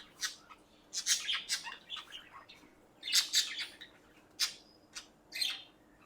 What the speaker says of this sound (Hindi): यहाँ पे बहुत सारी चिड़िया और मछली पाल के रखी इन्होंने